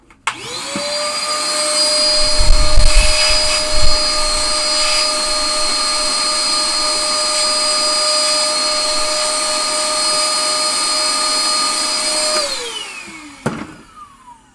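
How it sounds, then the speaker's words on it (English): A vacuum cleaner runs steadily under the motor board of a 1974 Williams Lucky Ace pinball machine, a loud whining motor with sucking bumps early on, then spinning down and switching off with a few clicks. "Let's vacuum under there"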